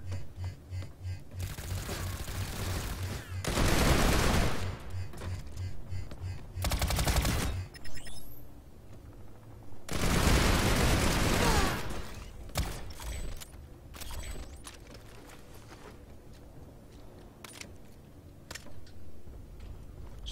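Turret gunfire in the video game PlanetSide 2, with loud sustained bursts of rapid automatic fire separated by gaps, mixed with scattered mechanical clanks and other game effects.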